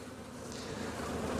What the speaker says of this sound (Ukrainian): І бджолки, бачите, як збираються.